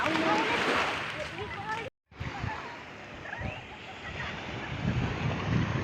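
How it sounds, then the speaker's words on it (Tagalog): Sea surf washes continuously onto a beach on a Sunday afternoon, mixed with wind buffeting the microphone and faint voices nearby, briefly cutting out before resuming. "Ito nga palang dagat pag linggo ng hapon"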